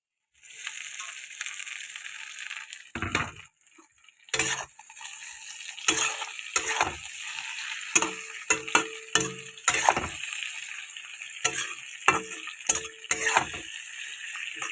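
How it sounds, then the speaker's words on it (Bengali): Fried potato and eggplant being stirred into frying masala for a tangra fish curry, with scraping spoon strokes against the pan and clinks over a steady sizzle, in irregular bursts close by. "এই মশলাটা ভাজা হয়ে গেছে, তো আমি এখন ভেজে রাখা আলু, ভেজে রাখা বেগুনটা ঢেলে দেবো"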